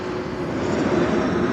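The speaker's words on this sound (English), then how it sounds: "E2 arriving from Toulouse." Embraer E2 jet arriving from Toulouse at Amsterdam Schiphol, a continuous engine rumble and whine holding steady and close, with no voices.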